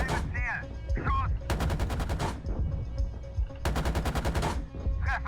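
Tank cannon and gunfire in the tank game GHPC, sharp repeated bursts of rapid fire in two long volleys, loud and close, with crew voices calling out between them.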